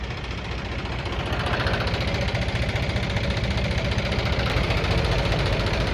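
A tractor engine idles close by with a steady, loud low rumble and rapid knocking pulse, unchanging throughout and with no voices over it.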